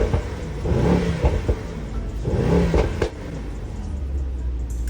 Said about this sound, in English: He let me rev the car.